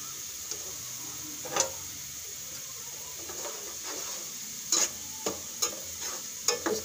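Onions fry golden in a pan for a fish salan, a steady soft sizzle running throughout with occasional brief stirring scrapes and clicks, no voices.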